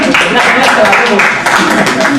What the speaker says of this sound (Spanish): Un aplauso a Elena